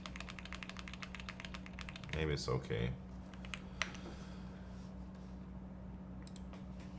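Rapid, crisp keystrokes rattle on a computer keyboard that occasionally registers double presses; a short spoken phrase breaks in midway, then sparser typing continues quietly.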